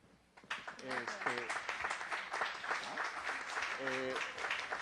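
Applause from an audience at a university panel on graduates in the public sector, a dense continuous clatter of clapping that swells in after a brief quiet start and holds steady, with a voice talking over it.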